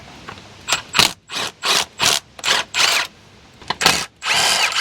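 Air impact gun spinning out bolts during a clutch job on a 2009 Toyota Auris, a series of loud buzzing bursts of about half a second each, close up, with short gaps between them and no talk.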